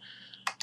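Quick typing on a computer keyboard, a few crisp key clicks close by over a steady faint electronic hum.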